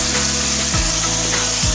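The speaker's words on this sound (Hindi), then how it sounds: "ये देखिए हम पनीर को फ्राई कर ले रहे हैं बिल्कुल हल्का।" Paneer cubes frying lightly in oil in a kadhai give a loud, continuous sizzle with a steady crackling hiss, broken by a couple of faint scraping stirs.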